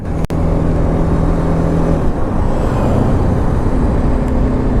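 A 2018 BMW G310GS motorcycle rides around the block, its steady engine drone loud and continuous throughout, with a brief sharp knock near the start and no talking.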